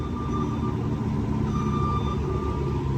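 A chopper machine gives a steady, repeating electronic warning beep while it winds down after the engine is switched off. A low rumble of slowing machinery runs continuously underneath.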